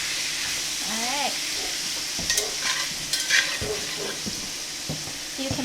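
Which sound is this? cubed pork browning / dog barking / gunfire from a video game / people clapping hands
cubed pork browning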